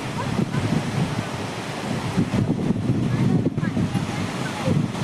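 Strong wind blowing at Gokak waterfall in Karnataka, a loud continuous roaring buffet across the microphone with gusty surges, while people talk faintly under it.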